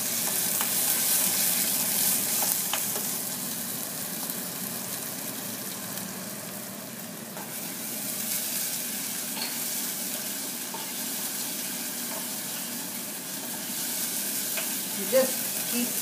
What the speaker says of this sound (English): You just keep stirring, cooking, just a minute or 2, and just again let the onion become a little soft.